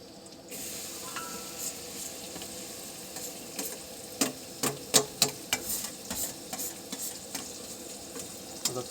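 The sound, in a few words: onion frying and being stirred in oil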